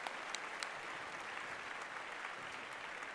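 A crowd at a Black Hall of Fame induction ceremony and show claps in a continuous, dense round of applause, steady and fairly full throughout with a few sharper individual claps standing out.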